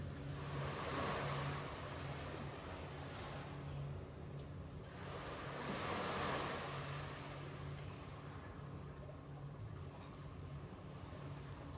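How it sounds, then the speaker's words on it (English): Soft waves wash in and recede in slow surges, a broad hiss rising and fading, quiet and steady with no talking. "close your eyes and just take a moment to listen to the water"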